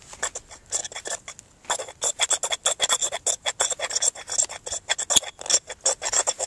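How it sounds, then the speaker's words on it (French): A sharp knife scrapes shavings off a magnesium block on a flat snowshoe surface, producing rapid, repeated rasping strokes in an uneven rhythm, close and fairly loud with brief pauses between. "je vais découper des retailles de magnésium sur une surface plane qui est ma raquette"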